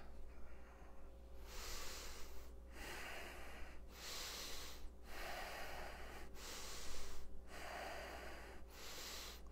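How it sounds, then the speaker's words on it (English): Steady, slow breathing during a home workout cool-down, a run of long even exhales with short pauses between them, close and fairly loud against a low constant hum, with no talking. "Nice, easy breaths."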